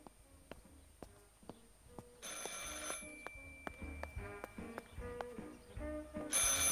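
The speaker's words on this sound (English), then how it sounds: "I should pick up the phone but remain silent." Telephone ringing in the video game Martha is Dead, a repeating electronic bell tone heard amid ambient in-game sounds with occasional buzzing, moderately close and loud, with no talk.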